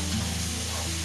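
Onion paste fries in a hot pan for a katla fish kalia, making a continuous close sizzle over a low steady hum with no pauses.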